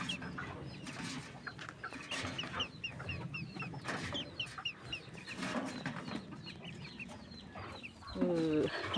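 On a farm, a mother duck and her newly hatched ducklings make soft, close chirps, peeps and clucks, scattered irregularly over a quiet rural background, with a louder rustle near the end.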